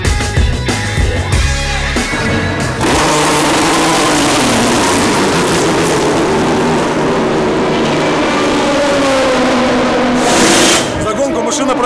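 Race cars roar away together at the start of the Le Mans 24 Hours, a loud sustained engine wall rising in pitch as they accelerate, with a brief burst of crowd or engine noise near the end.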